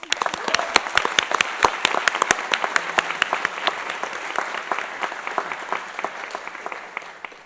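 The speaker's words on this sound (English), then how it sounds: "We deserve to give ourselves one huge round of applause" A crowd at a Duke engineering master's hooding ceremony breaks into sustained, moderately loud applause with dense irregular clapping that slowly thins over several seconds, no voices over it.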